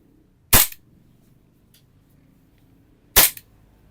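Two sharp, loud pistol shots sound alone, about two and a half seconds apart, during test firing of an affordable pistol made by Army Armament.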